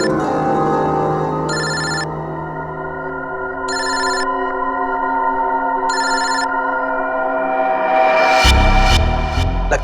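A telephone rings in repeated short bursts, three rings spaced about two seconds apart, over a steady tonal background in a tense crime drama scene, followed by a loud low thud near the end.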